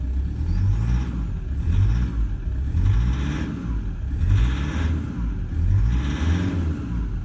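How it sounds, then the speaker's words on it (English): Engine of a vehicle with suspected blow-by revving in repeated swells, about four or five rises and falls, loud and close with no talking. "give it a little rev just to have a listen"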